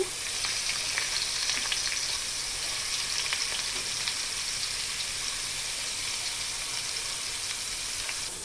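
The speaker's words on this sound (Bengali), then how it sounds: "আমি মাছটাকে সুন্দর করে ভেজে নিব" Fish sizzles steadily in hot oil in a pan, a continuous loud frying hiss with faint crackles throughout and no voices.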